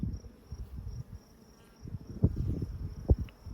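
Honeybees hum around an opened beehive, a thin steady buzzing drone with scattered soft bumps and rustles close by.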